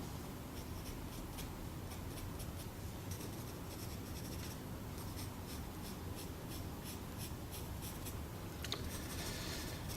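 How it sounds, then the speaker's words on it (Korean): A graphite pencil shades on drawing paper during a brick-drawing sketch, producing a steady close scratchy rasp of repeated strokes, continuous and soft with no voices. "연필이 이렇게 살살살살 종이 위에 얹듯이 칠해지는 것과 약간 종이결을 이제 눌러서 결을 사이사이로 침투를 약간 하는 느낌으로"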